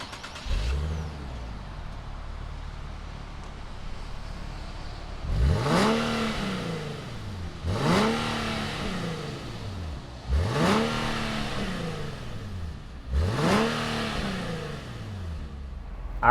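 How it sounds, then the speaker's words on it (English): A 2019 Nissan 370Z Roadster engine cranks and catches, then gives four sharp revs in a steady rhythm, each rising and falling back to idle, close and loud with no talking. "fire up this 370Z Roadster and see what it sounds like"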